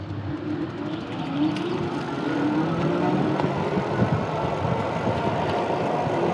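Folding fat-tire electric bike (Polarna / GDSEBIKES G205) running on throttle alone, giving a steady whirring motor hum over road and wind rumble that holds fairly constant as it cruises.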